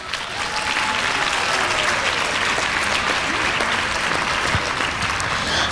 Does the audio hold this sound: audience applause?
yes